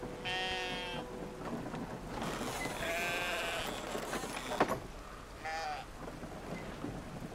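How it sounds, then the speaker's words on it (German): Sheep bleat in the video game Brothers: A Tale of Two Sons, three wavering cries at moderate distance over a background of rain and rolling thunder. "Das arme Schaf ist jetzt von der Herde abgetrennt"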